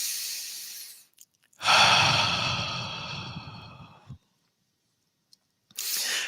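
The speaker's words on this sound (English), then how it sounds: "So let's take a deep breath." A single slow, deep breath taken during a guided meditation practice, drawn in and let out close up for about two and a half seconds, with quiet before and after.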